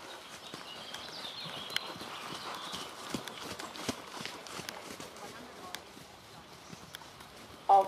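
Horses trotting in a riding arena, steady clip-clop of hooves on footing throughout, with faint commands and voices in the background.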